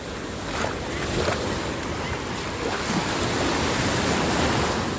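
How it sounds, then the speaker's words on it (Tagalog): Strong ocean surf at high tide crashes and rolls continuously with loud wind noise buffeting the microphone, the roar steady throughout. "Lakas ng alon."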